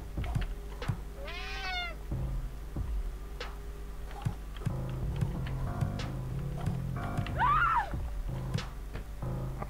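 A cat in the video game Friday the 13th: Killer Puzzle meows twice, once early and once near the end, over a quiet game soundtrack with soft ticking clicks.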